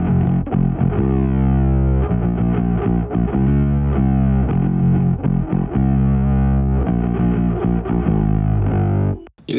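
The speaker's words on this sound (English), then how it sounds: "So the bass is basically a simplified version of the riff," Heavily distorted bass guitar plays a syncopated riff, a simplified version of the guitar part, with thick gritty low notes in a steady chugging rhythm, loud and close, ending abruptly.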